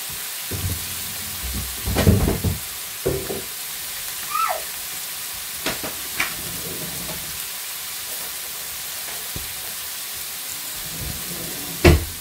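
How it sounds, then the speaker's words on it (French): Bolognese sauce made with olive oil sizzles steadily as it cooks in a pan, a constant soft hiss with occasional utensil knocks and clatter nearby. "Je laisse en cuisson."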